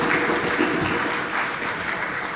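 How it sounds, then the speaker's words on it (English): Steady applause from an audience at a final lecture at York College in Queens, New York, a dense continuous clatter of many hands that holds loud and even throughout. "Please give everyone a round of applause as they come forward."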